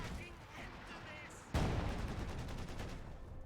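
MG42 machine gun fire in Company of Heroes 2 cuts in suddenly as a sharp burst, then continues in fast, evenly spaced rattling shots, moderately loud behind faint game ambience.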